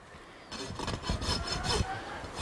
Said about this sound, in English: So you can do it with your rasp if you want